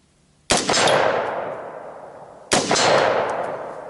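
Two loud rifle shots on a shooting range, about two seconds apart, each a sharp close crack followed by a long decaying rumble of echo; no voices.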